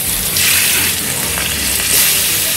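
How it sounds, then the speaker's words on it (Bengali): Salted, turmeric-rubbed hilsa fish pieces fry in hot mustard oil, giving a loud, steady, dense sizzle that fills the whole stretch with no speech. "সর্ষের তেল গরম হয়ে গেছে, এবারে নুন হলুদ মাখিয়ে যে ইলিশ মাছগুলো রেখেছিলাম সেগুলো এবারে আমি তেলে ভেজে নিচ্ছি।"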